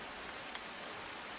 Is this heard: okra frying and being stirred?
no